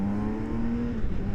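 A BMW K 1600 GTL motorcycle engine runs steady and loud with a constant droning pitch, easing slightly toward the end, with no voices.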